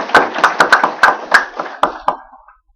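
Applause welcomes a lecturer at a religious class gathering, a short burst of about ten distinct, fairly close claps that thin out and fade within a few seconds.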